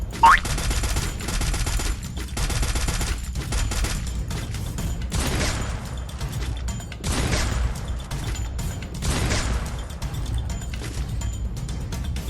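Gunfire from the mobile battle-royale game Free Fire rattles in rapid automatic bursts, with several volleys one after another at a loud, close level and short gaps between them.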